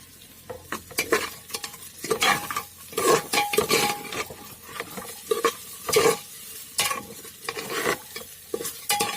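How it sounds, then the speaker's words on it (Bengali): Rice with salt, bay leaf, cumin and turmeric frying for pulao, a steady sizzle broken by frequent scraping and clinking stirs of a spoon against the pot, close and fairly loud. "এখন ভালো করে ভেজে নেব।"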